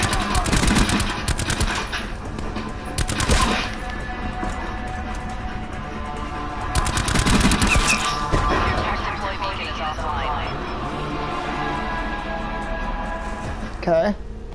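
Gunfire in the video game Call of Duty Black Ops 4, with loud bursts of automatic weapon fire and single shots recurring through a busy, dense game soundscape while a player talks over it.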